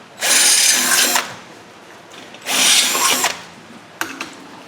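A 3/16 drill bit bores into material while working on a Subaru 2.5 engine, in two sustained loud bursts of about a second each, then a brief third start, close up and without speech.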